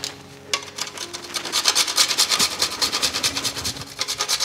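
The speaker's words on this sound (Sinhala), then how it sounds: "ඊළඟට මේ නට් මේක් එකත් මේ විදිහට අපි ග්‍රේට් කරගන්න ඕනේ මෙතන." Whole nutmeg rubbed against a grater for a Sri Lankan love cake, a close rhythmic rasping of quick repeated strokes that begins after a short pause and carries on steadily, with no talking.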